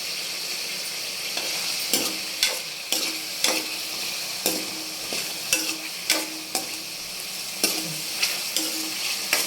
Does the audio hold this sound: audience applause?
no